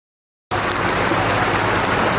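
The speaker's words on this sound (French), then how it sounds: "Sous une pluie battante" Heavy rain pouring down in a steady, loud, dense hiss that starts abruptly after a short silence and continues without letup.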